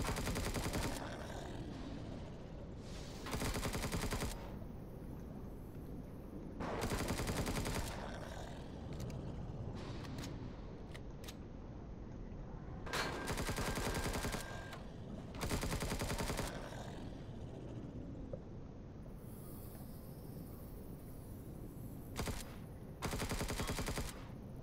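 Repeated bursts of automatic gunfire from the video game Empyrion Galactic Survival, several loud rapid volleys spread across the stretch with brief pauses between them, set against steady game ambience.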